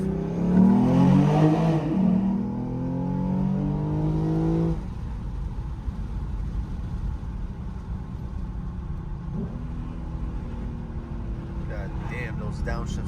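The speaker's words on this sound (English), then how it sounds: "those downshifts are so crisp" A Lexus IS350 engine revs sharply through downshifts, loud and rising in pitch for several seconds, then falls to a quieter low drone with a further brief rise and fading engine sound.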